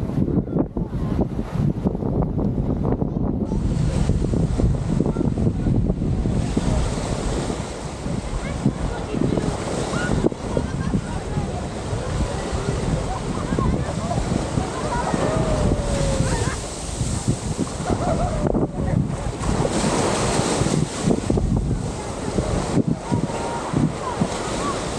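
Surf and wind on Waikiki Beach, a continuous loud wash of breaking waves mixed with gusty wind buffeting the microphone, unbroken throughout.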